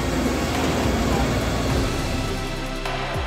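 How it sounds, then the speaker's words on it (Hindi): Heavy monsoon rain in Himachal Pradesh pours as a loud, dense, continuous hiss close by, with a low rumble beneath it and no voices over it. "बारिश लगातार बारिश हो रही है"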